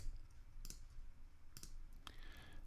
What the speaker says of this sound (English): by holding the option key down, which gives me a little question mark,